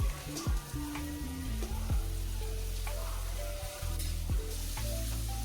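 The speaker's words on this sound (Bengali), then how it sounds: "এখন একটু সময় নিয়ে মশলাগুলোকে আমি কষিয়ে নেব।" Ground spices with a spoonful of turmeric stir-fry in oil for a pangas fish curry, a steady loud sizzle broken by repeated scraping stirs, with a low hum running underneath throughout.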